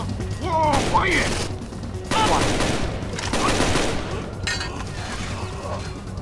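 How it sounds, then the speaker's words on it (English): Rapid bursts of gunfire ring out in the video game Rainbow Six Vegas, several sharp volleys in quick succession, with people talking over the shooting. "My gun sounds so intimidating."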